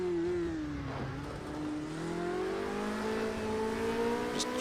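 Formula Renault race car engine driven gently on snow, a steady mid-pitched drone that rises slowly as the throttle is eased on, continuous and fairly close throughout.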